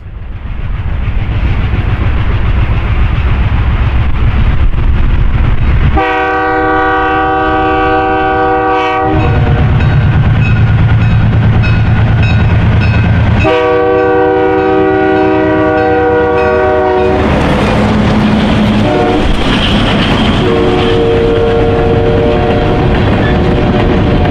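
An ALCO-hauled freight train of hopper cars rumbles past up close in New York, its horn sounding in long harmonic blasts over the steady roar and clatter of the cars.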